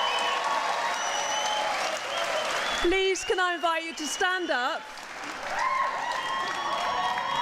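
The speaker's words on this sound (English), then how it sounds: "clap to your parents and your supporters" Graduation ceremony audience applauds parents and supporters at a School of Health and Society ceremony, steady crowd clapping throughout, with a speaker's amplified voice briefly cutting in over it midway.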